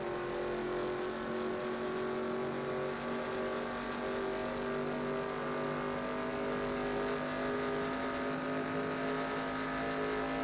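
Race cars circle Daytona during qualifying in the NASCAR Racing 2003 video game, a steady, continuous drone of engines holding at full throttle for the whole stretch, loud and unbroken, with no voices.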